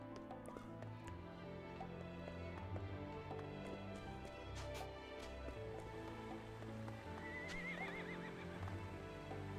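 In the Octopath Traveler 2 video game, a horse neighs and its hooves clip-clop over a dense, steady bed of ambient game sound that resembles rain. The sound is moderately loud and continuous throughout.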